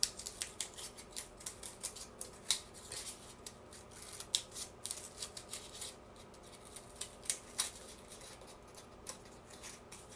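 Scissors snip repeatedly through fabric or paper while cutting material for rag flowers, a quiet, steady run of short crisp cuts with no talking.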